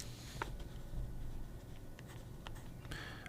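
A fountain pen fitted with a Kegaloo nib scratches softly across paper, with faint, intermittent ticks and brief strokes over a low background rumble, close and quiet, with no voices.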